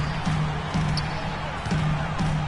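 Loud basketball arena crowd in NBA 2K16, a constant dense roar with steady crowd intensity and faint squeaks and bounces underneath.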